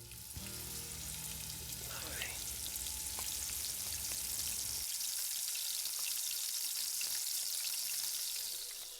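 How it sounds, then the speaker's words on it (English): Chicken wings sizzle and crackle loudly in a hot pan with refined oil, a dense continuous hiss with scattered pops, steady throughout with no voices. "So our chicken wings are frying away nicely."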